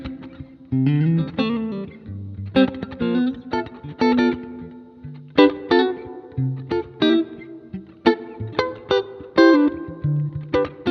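A blues progression of seventh chords is played on a distorted, effects-laden electric guitar, with choppy chords coming in short rhythmic bursts and gaps between them.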